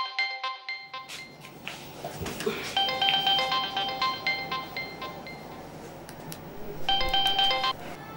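A phone's electronic ringtone melody repeats in two bursts on an outgoing call over a low background rumble, fairly close and clear.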